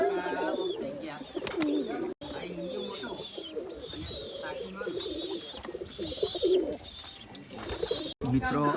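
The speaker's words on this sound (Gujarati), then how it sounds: "આ કબૂતર ઘર છે તો તમે ઘણા બધા કબૂતર અંદરની બાજુ આ રીતે જોવા મળશે" Pigeons coo repeatedly in soft, rolling calls, with several birds overlapping nearby and some voices talking over them.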